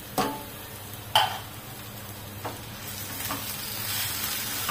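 Tomato masala cooks in oil in a pan for stuffed brinjal curry, giving a steady close sizzle with a few sharp ticks and clinks of a spoon against the pan, and no talking.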